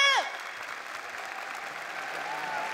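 Arena audience applauding fighter Johnny Case after his knockout win at the RIZIN.40 MMA event, a steady wash of clapping that follows a brief announcer's voice at the start and carries on evenly.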